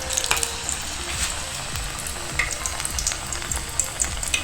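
A piece of plantain sizzles and crackles steadily in hot oil in a home kitchen, close and moderately loud, with small pops scattered through the frying.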